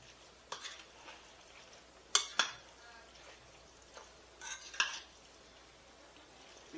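Spoon stirring frozen peas through a tuna noodle casserole, giving a few scattered scraping and clinking knocks against the dish, with two sharper clacks in the middle, in a quiet kitchen.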